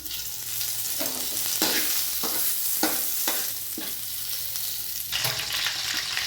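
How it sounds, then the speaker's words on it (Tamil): Curry leaves dropped into hot oil in a pan while cooking aloo paratha and momos, giving a loud, continuous sizzle and crackle with a few sharp spatters and stirring scrapes, no voices. "இப்போ கருவேப்பிலை போட்டுக்கலாம்."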